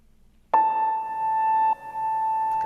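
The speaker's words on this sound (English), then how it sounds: "it's called Parallel Earth Piano" A soft sustained note from the Parallel Earth Piano software instrument in Logic, with effects applied, starts cleanly and rings steadily, briefly dipping before swelling again, with no talking.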